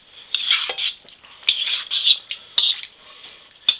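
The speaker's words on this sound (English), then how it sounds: "we're just going to stir that up really good, get that soy sauce getting in there" A spoon stirs gyudon beef with soy sauce, wine and broth in a pan, giving several close, bright metallic scrapes and clinks in irregular bursts with short pauses between, and no talking.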